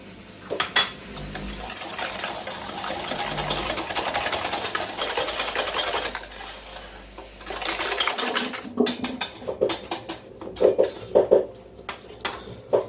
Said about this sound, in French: nous allons fouetter les jaunes avec le restant de sucre et les faire blanchir